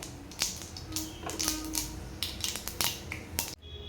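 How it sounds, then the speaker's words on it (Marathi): Mustard seeds spluttering in hot oil while tempering for a semolina appe batter, a close, busy run of sharp irregular pops and crackles for several seconds, then an abrupt drop to quiet. "मोहरी व्यवस्थित तडतडली पाहिजे, तरच रव्यामध्ये खमंग फोडणी बसेल."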